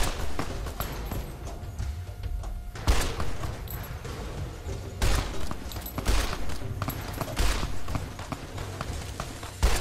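Gunfire in Fallout: New Vegas, a run of sharp, loud shots and bursts with irregular spacing that continues across the whole stretch, some close and some more distant.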